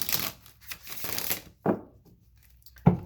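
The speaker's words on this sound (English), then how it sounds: "one more shuffle" A deck of tarot cards is riffled and shuffled close by: a soft fluttering run of card riffles, then a pause and two short, crisp snaps as the deck is squared.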